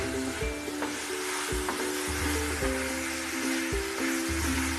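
Fried rice cooks in a pot, Trini style, with corn and beans stirred into the other ingredients: a loud, steady close sizzle with repeated scraping stirs and a few clanks.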